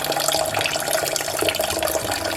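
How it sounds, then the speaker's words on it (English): Tap water runs steadily into a sink or bowl while basmati rice is rinsed, a close, continuous splashing hiss with no voices. "when washing the rice, you want to wash it 2 to 3 times or until the water runs clear."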